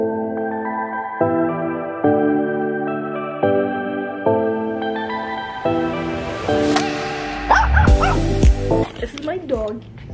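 A dog visiting a college dorm room on move-in day yips and whimpers in short bursts close by, under steady music and people talking.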